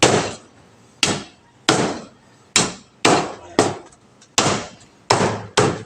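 Pork ribs are chopped with a bolo knife on a cutting surface, eight heavy, sharp chops landing at a steady, unhurried rhythm, loud and close, each followed by a brief ringing decay.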